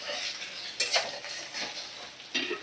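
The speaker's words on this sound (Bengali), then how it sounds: "নাড়াচাড়া করে নেব।" Ginger-garlic paste is stirred in a cooking pan, with a soft continuous sizzle and scraping strokes plus a few louder utensil scrapes against the pan, close and fairly quiet.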